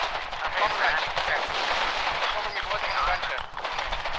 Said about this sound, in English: there's some mortar shots being fired as of now